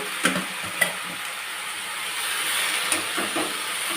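Gongura leaves fry in oil in a kadai with a steady, fairly soft sizzle, punctuated by a few sharp clicks of a stirring spoon against the pan.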